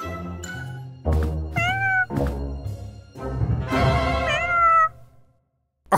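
A cat meows several times in a row, clear and close, with drawn-out rising and falling calls that end in a longer, wavering meow before a short silence.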